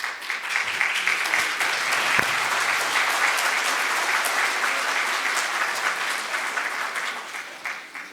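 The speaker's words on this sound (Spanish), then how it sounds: "Lo recibimos con un aplauso." An audience at a church liturgy and lectio divina gathering claps steadily for a priest, a dense, loud round of applause that holds for about eight seconds before thinning out.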